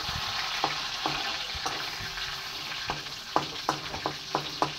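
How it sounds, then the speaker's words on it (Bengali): Garlic and dried chillies sizzle steadily in oil in a pan while a utensil taps and scrapes now and then, a close, constant frying hiss. "একটু ভাজা হতে দিতে হবে।"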